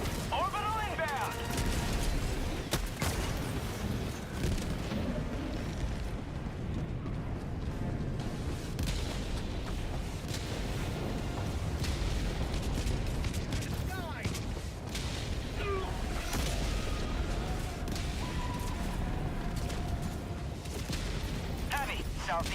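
Orbital strike explosions in Helldivers 2, a long stretch of continuous booming blasts and rumbling battle noise that stays loud throughout, with voices shouting over the action.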